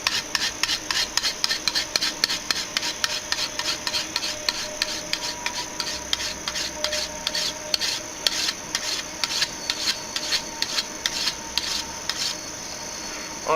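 A file rasps along a cheap sword blade in quick, steady back-and-forth shaving strokes, a close, even rhythm of scraping that runs continuously with no voices.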